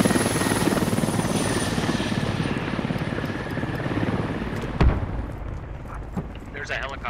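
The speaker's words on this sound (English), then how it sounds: "There's a helicopter landing at workshop." A helicopter in the video game Squad flies overhead with a steady, loud rotor thump that carries most of the way through, then fades as a sharp distant blast cuts in near the end.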